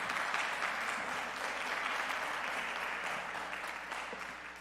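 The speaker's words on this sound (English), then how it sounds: "You should clap when you say Happy Mother's Day." Audience applause at a Mother's Day moment during a green team summit, a steady wash of many hands clapping at moderate distance, gradually tapering off near the end.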